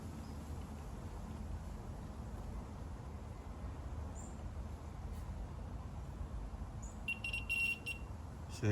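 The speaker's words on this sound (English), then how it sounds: "it's beeping again." A carp fishing bite alarm on a 65-acre low-stock lake lets out a quick burst of sharp electronic beeps near the end, over a steady low outdoor rumble.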